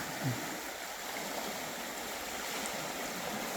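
A stream flows steadily at a campsite at night, a continuous close rush and gurgle of water with no voices.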